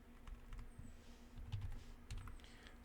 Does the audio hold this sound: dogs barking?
no